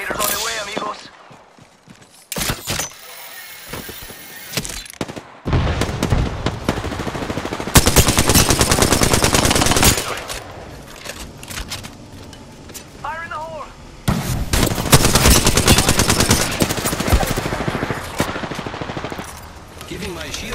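Automatic and single-shot gunfire in Apex Legends ranked play comes in heavy bursts, some rapid and sustained, some sparse, rising and falling over roughly twenty seconds, with quiet gaps between the louder exchanges.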